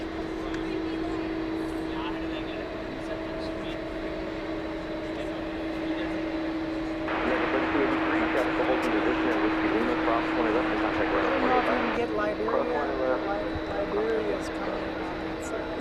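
A ten-year-old Boeing 787 Dreamliner at DFW Airport gives a steady distant jet drone with a constant hum, swelling noticeably louder midway before easing back, while people talk over it and air traffic radio chatter cuts in.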